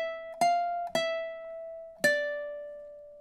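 Three plucked ukulele notes from measure 9 of a tune ring out alone and clear, each with a sharp attack and a long sustained decay, the last one left ringing.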